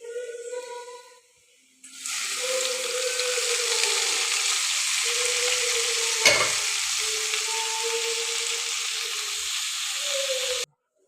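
Oil sizzling and frying steadily in a pan while spinach thoran is cooked with onions, shallots, green chilli and garlic, a loud continuous hiss with light stirring scrapes and a brief clatter midway, no talking.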